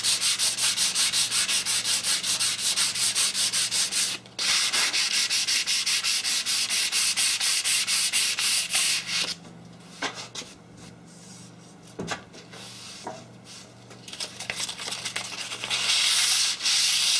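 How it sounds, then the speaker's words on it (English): A rusty table saw top being sanded by hand with 1200-grit sandpaper, heard as rapid back-and-forth rubbing strokes, close and loud, with a short pause near the start and irregular, lighter scrapes in the second half. "I could use a block with this, a sanding block to help a little bit better."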